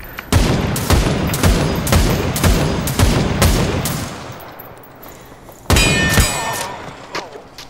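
Rapid automatic gunfire in the Super People battle royale game, a loud burst of close shots for about four seconds, then a brief lull and a second burst with metallic ringing.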